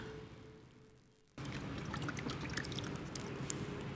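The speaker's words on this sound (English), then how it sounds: "dunk it into the water" A hanging plant bound with twine is dunked into a container of water, giving a sudden onset of steady pouring, splashing water that continues loud and close after a quiet start.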